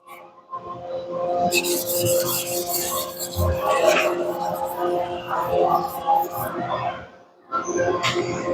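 Kurogane bunka knife blade rubbed back and forth on a 1000 grit whetstone, gritty rasping strokes close up with brief pauses and a short gap near the end.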